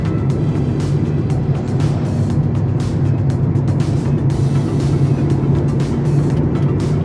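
A car travels along the Tamhini Ghat road with a loud, continuous engine and tyre rumble, steady throughout with faint rattles and no talking.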